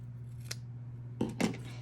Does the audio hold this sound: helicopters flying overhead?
no